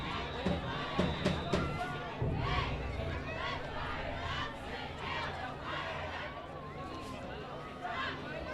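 A hometown crowd at a high school football game between Evanston and Ben Lomond roars and cheers steadily, dense and loud throughout, with a few sharp claps and shouts early on.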